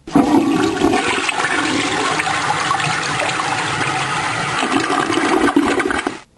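A toilet flushes in one loud, close, continuous rush of water lasting several seconds before cutting off abruptly.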